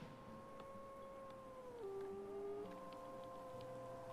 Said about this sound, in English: we can hear the wolves howling.